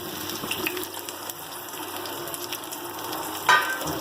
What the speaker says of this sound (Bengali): আমি সেই মশলা ধোয়া জলগুলো দিয়ে দিলাম